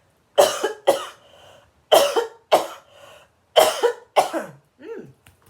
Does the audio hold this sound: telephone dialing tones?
no